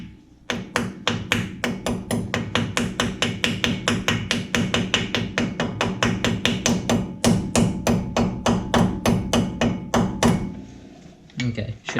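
Steady, rapid metallic hammer taps on a Ford Ranger front wheel bearing race ring out close by, dozens of blows in a quick regular rhythm, with faint talk underneath.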